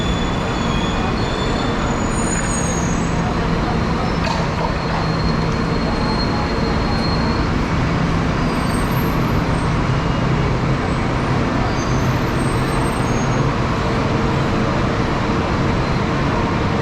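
Dense city traffic in Kuala Lumpur with a bus rumbling through, a steady loud roar of engines and road noise with occasional squeals, continuous throughout.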